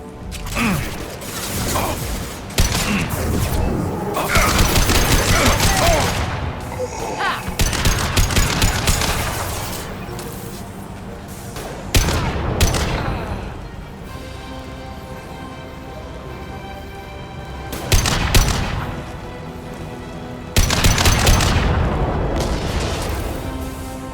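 Gunfire rattles through a firefight in the sci-fi shooter Mass Effect 2, with loud bursts and booms in repeated clusters. Quieter mechanical stretches fall between the bursts.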